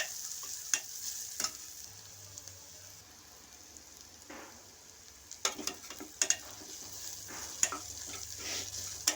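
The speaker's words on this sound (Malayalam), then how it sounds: "അതിലേക്ക് നമുക്ക് മഞ്ഞൾപ്പൊടി, ഉപ്പും ഇട്ട് കൊടുത്ത് നല്ലപോലെ ഒന്ന് ഈ പച്ചമണം മാറുന്ന വരെ ഇളക്കി കൊടുക്കാം" Onion, green chili and tomato with turmeric and salt stirred as they fry in a pan for a dried-fish curry, a steady soft sizzle broken by scattered sharp scraping clicks of the spoon, close and moderately quiet.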